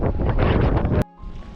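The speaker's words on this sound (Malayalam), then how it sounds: "നമ്മളിവിടെ കുറേ കാറ്റ് നന്നായിട്ട് അടിക്കുന്നുണ്ട്" Loud, blustery wind buffeting the microphone for about a second, then cutting off abruptly to a quieter, steadier background rumble.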